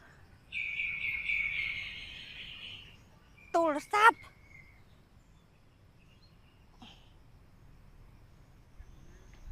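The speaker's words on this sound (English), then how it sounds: "Just listen to the bird." A bird sings a sustained high trill, followed by a couple of sharp chirps, over a low steady background hum; then quiet.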